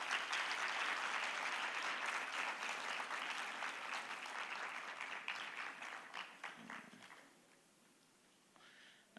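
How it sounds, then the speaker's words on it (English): Conference audience applauding, a sustained wash of many hands clapping that holds steady for several seconds, then thins and fades out to a few scattered claps. "Let's give him a good round of applause."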